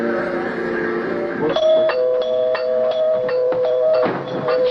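A doorbell chimes over and over in quick succession, bright ringing tones repeating about every half second after a low hum, loud and close.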